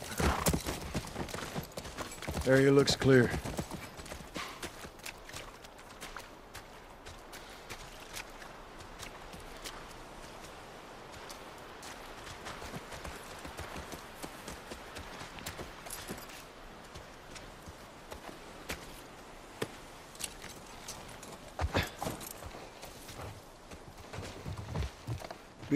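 A horse's hooves clip-clop at a walking pace in The Last of Us Part I, soft and fairly distant, with scattered game sounds and brief speech near the start.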